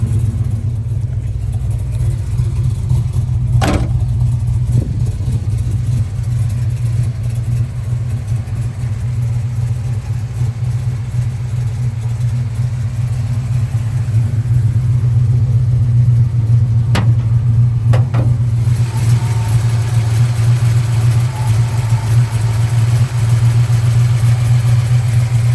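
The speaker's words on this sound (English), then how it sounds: "There's your 440 cubic inch Mopar V8 4-barrel. Really good running engine, great power." A 1970 Dodge Challenger with a 440 cubic inch Mopar V8 four-barrel idles with a loud, steady, deep rumble close by, punctuated by a few sharp clicks, with no one talking.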